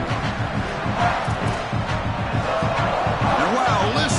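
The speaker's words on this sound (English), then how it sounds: "listen to this crowd noise. This stadium is vibrating." A college football stadium crowd in the NCAA 27 video game roars in a dense, continuous wall of noise with rhythmic rumbling pulses, loud and sustained throughout.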